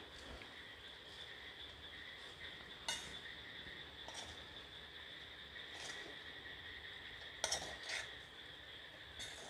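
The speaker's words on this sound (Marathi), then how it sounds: "आता मिक्स करून घेते छान" Spoon stirring a sabudana khichdi mixture in a pan, soft scraping with a few sharp clinks against the vessel, faint over a steady background hiss.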